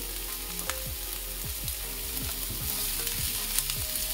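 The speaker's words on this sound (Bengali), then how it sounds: "সো ইয়েলো ক্যাপসিকাম দিয়ে দিলাম। এবার এটাকে ফ্রাই করব।" Yellow capsicum fries in a pan for paneer Manchurian, a steady sizzle under repeated scraping stirs of a spatula, moderately quiet and close with no voices.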